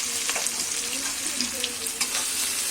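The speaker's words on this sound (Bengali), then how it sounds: "এই যে পেঁয়াজ ভাজা চলছে" Onions frying with a little sugar, caramelizing in a pan, give a constant close sizzle, with light scraping and stirring strokes.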